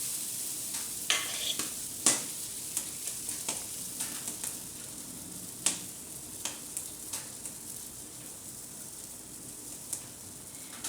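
A steady sizzling hiss of waffle batter cooking on a hot cast iron waffle iron, with scattered small pops and crackles throughout.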